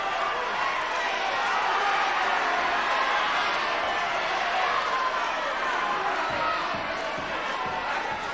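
Wrestling crowd at a 1978 semi-final bout between Mark Rocco and Mal Sanders, a loud, continuous wall of cheering and roaring from a packed hall that swells steadily without pause, with voices mixed into the din.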